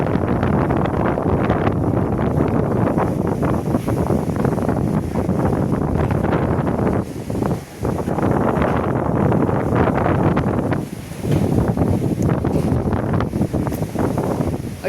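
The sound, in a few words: strong wind blowing on a hilltop viewpoint at Tirumala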